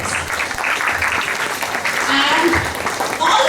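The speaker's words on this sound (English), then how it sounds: "Big round of applause for us." Schoolchildren and staff applauding at a school Independence Day assembly, a dense, loud, steady clatter of clapping filling the room with voices mixed in.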